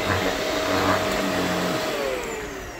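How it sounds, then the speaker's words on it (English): A Shark vacuum cleaner runs steadily on car floor mats, a loud close whine with droning motor tones whose pitch sags slightly near the end. "I just wanted to show off how good this vacuum works on these rugs."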